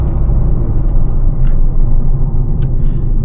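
A 2011 Ford Focus 1.6 TDCi diesel hatchback drones steadily from inside the cabin while driving, a dense low engine and road rumble with faint ticks and clicks over it.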